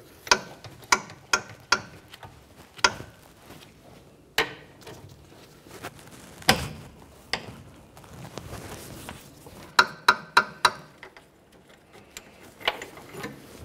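A ratchet tool turns an inner tie rod end counterclockwise off the power steering rack of a 2012-2018 Nissan Altima, giving sharp metallic clicks in bursts and single ticks, close and fairly quiet.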